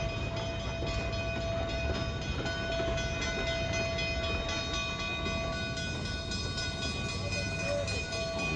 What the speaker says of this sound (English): We actually got to see them running one of the steam engines and putting it back into its parking spot.